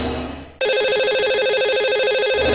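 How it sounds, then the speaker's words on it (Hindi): A telephone rings on air as a live radio or TV show dials a lucky caller, one steady warbling electronic ring tone that starts abruptly and plays loudly and alone for about two seconds. "तो लगाते हैं इन्हें अब कॉल।"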